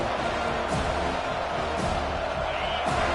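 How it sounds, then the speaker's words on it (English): A dense, steady roar of a large crowd, continuous and fairly loud throughout, with a faint voice rising within the noise. "listen to this crowd noise. This stadium is vibrating."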